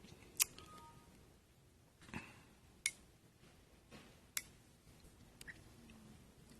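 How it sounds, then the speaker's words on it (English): A relay that switches an external fan clicks in and out, giving several sharp, faint ticks spaced irregularly a second or two apart against a quiet background. "turning on a relay to turn on an external fan. You might be able to hear that clicking in and"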